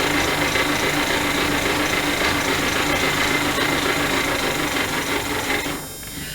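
A sewing or embroidery machine stitching coiled rope into a bowl runs as a steady, dense mechanical buzz from start to finish, dropping slightly quieter near the very end.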